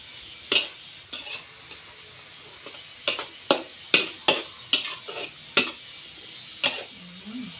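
A utensil strikes and scrapes a pan in sharp, irregular knocks as pickled and boiled bamboo shoots are stirred into a spicy chicken stir-fry, with a faint sizzle underneath.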